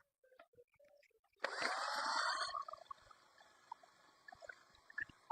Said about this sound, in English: so now I need to drill now the wall